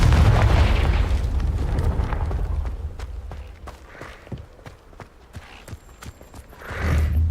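A Confringo fire-blast spell explodes in the video game Hogwarts Legacy, a loud booming burst that decays into scattered crackles and pops, followed by another rumbling blast at the end.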